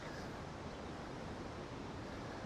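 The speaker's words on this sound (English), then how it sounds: "I'm sure my microphone is picking up the river there" A river running past houses in Spain makes a constant broadband rush of flowing water, steady and fairly quiet, with no voices over it.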